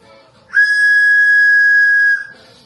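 A toy whistle attached to an electric fan toy is blown in one steady, loud, shrill tone lasting about a second and a half, with quiet room sound before and after.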